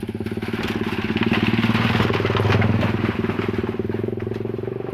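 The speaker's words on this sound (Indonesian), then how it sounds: "Dengar suara berisik motor melintas, gerasak rusuk." A motorcycle engine chugs loudly with a rapid, pulsing rhythm, rising as it nears and fading slightly as it moves past, near an old suspension bridge in Indonesia under overcast skies.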